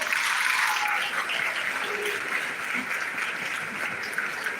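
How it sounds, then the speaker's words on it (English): A graduation audience at Dunoon Technical's 2025 ceremony applauds, the sustained crowd clapping strong at first and easing slightly while it continues steadily to the end. "give yourself a round of applause"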